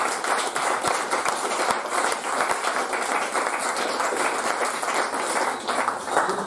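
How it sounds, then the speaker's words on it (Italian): Audience applause at an Italian event honoring Cesare Bermani, a dense, even round of clapping from a sizeable crowd that stays steady and loud throughout. "Gli facciamo subito un applauso."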